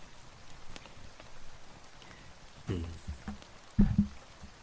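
Soft rain patters outside in the background while a few brief bumps and handling knocks sound close by, with no talking.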